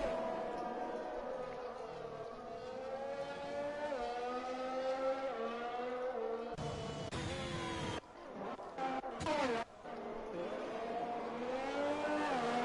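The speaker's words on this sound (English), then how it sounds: "a whole bunch of cars go by him looking to get one more chance at a hot lap here" F1 race cars in a racing video game at the British GP scream past one after another, engines rising and falling in pitch as they pass, loud and continuous with no break.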